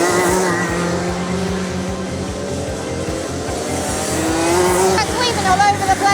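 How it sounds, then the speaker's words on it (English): Racing kart engines rev and buzz around the chicane at a Warden Law kart championship, a continuous high, pulsing drone with rising pitch sweeps near the end as a kart passes close, heard with speech over it. "I can hear the engines revving and they are literally starting to come around now."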